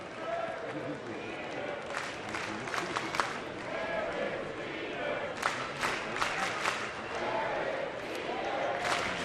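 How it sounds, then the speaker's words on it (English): A ballpark crowd at George M. Steinbrenner Field during a Detroit at New York spring game chants a player's name in rhythmic bursts, a broad roar with sharp claps and shouts over steady stadium murmur, a commentator speaking over it. "Derek Jeter chant from the crowd here at George M. Steinbrenner Field"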